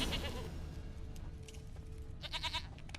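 A goat in the video game The Witcher 3 bleats twice, a wavering nasal call at the start and a stronger one near the end, over a low game ambience.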